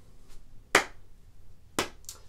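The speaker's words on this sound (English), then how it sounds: "We're going to start by clapping our hands." Hands clap to a steady beat, two crisp, close claps about a second apart with fainter taps around them.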